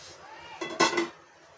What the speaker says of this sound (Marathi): मी झाकण काढून भाजी चेक करते